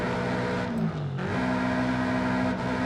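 Subaru STi fitted with a raspy race exhaust in Forza Horizon 5, a steady loud engine drone that dips in pitch briefly then rises and holds, with no talk.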